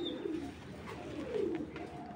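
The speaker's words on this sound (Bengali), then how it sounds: "এই যে ক্লাবের কবুতর" Club pigeons of the maxi breed coo softly in a short, low, burbling phrase heard close up and alone.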